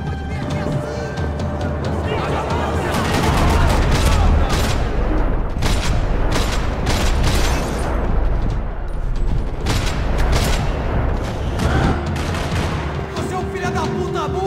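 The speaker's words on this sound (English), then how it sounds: "Another parking lot rattling with gunfire." Heavy gunfire in a parking lot in the video game Max Payne 3, dense bursts and rattling volleys running continuously and loud, with shouted voices mixed in.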